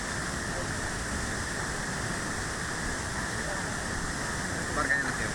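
Taytay Falls in Majayjay, Laguna, gives a steady, moderately loud rush of falling water that holds evenly throughout, with a brief faint disturbance near the end.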